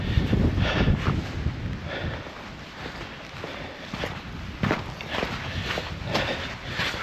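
Wind buffets the microphone on a winter hill walk in the Peak District: a steady low rumble with gusts, and footsteps crunching underfoot throughout.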